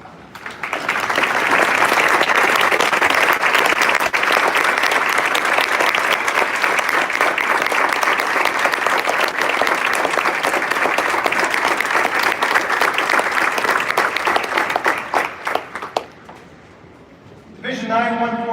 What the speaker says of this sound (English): Will all of the veterans please stand so we can give you a round of applause.